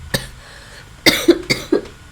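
A person with a stuffed-up nose gives a short, dry cough, then, after a pause, three more mild coughs in quick succession, all close and alone.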